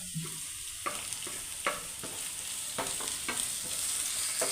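Onions and tomato frying for soya fry, a steady hiss of sizzling oil with a series of distinct scraping stirs of a spoon through the pan, the tomato dropped in near the start.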